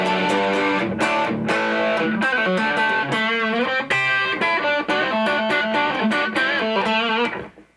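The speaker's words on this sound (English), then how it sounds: "That will kick on the distortion." An electric guitar through a tube amp's distortion channel plays crunchy chords and riffs, loud and sustained, then stops abruptly and rings out at the end.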